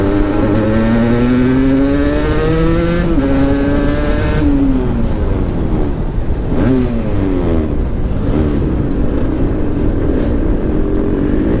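Aprilia RS 125 Extrema two-stroke sport motorcycle engine revving while riding, loud and close, climbing through the revs in rising whines with a shift drop and a rev dip, continuous, with no talking.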